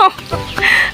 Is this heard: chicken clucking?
yes